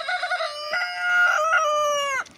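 A rooster crows once, loud and close, a sustained tonal call of about two seconds on a farm where hens are being fed cabbage, ending abruptly.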